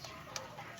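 Chickens give a faint, brief clucking in a setting where dogs and fowl are kept, heard over steady background noise.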